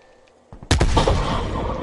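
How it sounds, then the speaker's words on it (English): Gunfire in a multiplayer shooter video game: after a quiet lead-in with a couple of soft knocks, a loud sharp shot bursts in, followed by a rapid cluster of reports and a sustained rumbling tail. "Oh, come on, stop shooting me"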